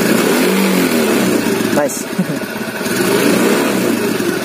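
A Kawasaki Athlete 125 motorcycle engine runs close by and is revved, giving a steady buzzing drone with a brief surge partway through, while a voice speaks briefly over it.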